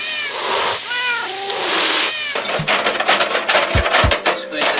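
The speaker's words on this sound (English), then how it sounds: "You can hear the cats, man." Cats meowing near an outdoor kielbasa cookout, several drawn-out meows and cries up close, followed by clattering knocks and scraping of cooking gear.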